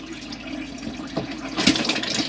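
Water running steadily from a 2012 Auto-Trail Tracker motorhome sink tap, a continuous close splashing hiss with a slight surge partway through.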